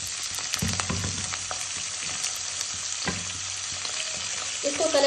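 Chicken pieces frying with onions in a hot pan, a steady close sizzle with stirring scrapes and clatters of the utensil against the pan.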